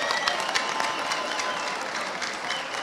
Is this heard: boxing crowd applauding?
yes